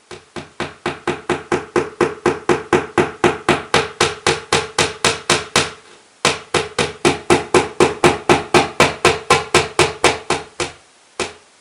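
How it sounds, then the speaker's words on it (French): A nail is hammered into a wall to hang a frame. Dozens of loud, close, evenly paced blows come in a long run, then a brief pause, then another steady run and one final strike. "il faut juste que je plante un clou pour accrocher un cadre"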